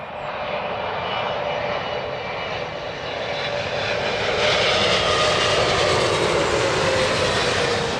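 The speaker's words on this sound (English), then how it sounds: "You can see there yet another 777 producing ribbons off the control surfaces." A Boeing 777 airliner landing at Heathrow Airport gives a loud, steady jet engine roar that builds slightly toward the end, with a broad rushing whine heard from fairly close and no talking.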